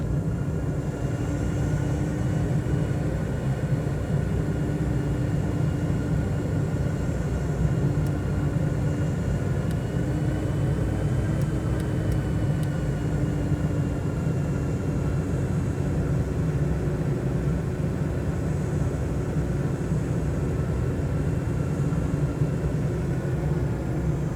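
A propeller airplane engine drones steadily on a crosswind approach in a flight simulator, a loud, even rumble with a constant hum that holds unchanged throughout, no voices.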